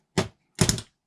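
Two short, crisp snips a moment apart as beading thread is trimmed for handmade jewellery, close and fairly quiet in an otherwise silent room.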